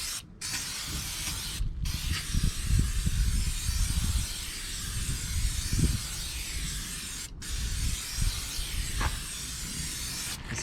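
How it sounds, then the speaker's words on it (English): Silicone spray hissing onto the near-side front car tyre in long continuous bursts, broken by a few short pauses, close and fairly loud, with faint handling noise underneath. "So next up on the near side front, we're going to use the silicone spray."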